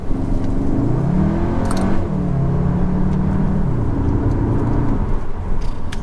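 A 2022 Cupra Formentor accelerates hard, its engine note rising through each gear before brief dips at the shifts. The steady, close whirring drive continues without any talking.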